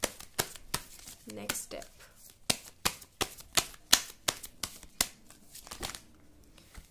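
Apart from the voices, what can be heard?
shuffling tarot cards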